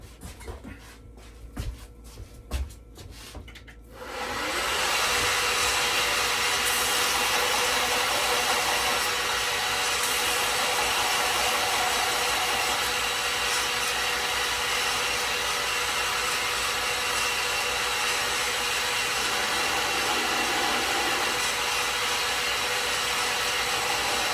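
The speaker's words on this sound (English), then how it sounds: "I'm gonna go sand these" A power sander runs on a moose stag fixed-blade knife handle at a workbench. A few seconds of quiet handling noise come first, then a loud, steady, even whirring drone that holds for about twenty seconds.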